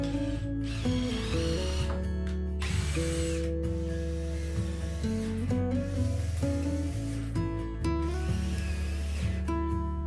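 A power drill bores a pilot hole into wooden lumber before a screw goes in, its motor whining in steady sustained bursts that stop and restart, loud and close with no speech.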